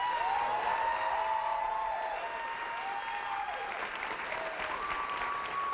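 Studio audience applause fills the room for a comedy segment introducing a health commentator, a steady, even wash of clapping with a few faint cheers mixed in, holding at a constant level from start to finish.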